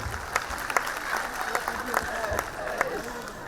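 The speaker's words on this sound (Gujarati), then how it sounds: "આપણા દેશ માટે એક વખત જબરદસ્ત તાળીઓ થઈ" Audience applause at a school's annual function in Rajkot, a scattered but continuous patter of claps with a voice speaking over it.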